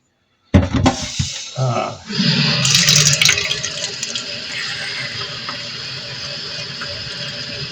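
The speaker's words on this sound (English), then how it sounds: "I toasted it in this pan, which I'm cleaning again for the 3rd time." A pan is washed under a running kitchen tap, with clattering as it is handled and then a steady rush of water splashing nearby.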